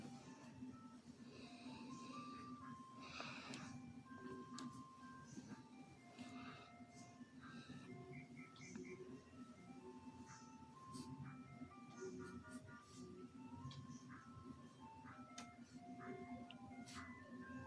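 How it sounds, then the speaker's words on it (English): Ice cream truck driving around outside, its faint tinkling chime melody drifting in from a distance beneath a person talking indoors near the microphone. "I am so sorry if you hear the ice cream truck going outside."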